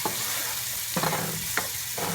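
Tomatoes sizzle steadily in a pan for a tuvar dish while a spoon stirs them, giving three or four distinct scraping strokes over the constant frying hiss, close and moderately loud, with no talking.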